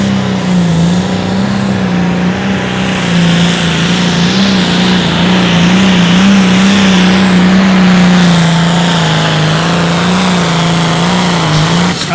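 A pulling tractor in the Light Limited Pro Stock class roars at full throttle down the track at an outdoor tractor pull, a loud, sustained, heavy engine drone that wavers slightly in pitch.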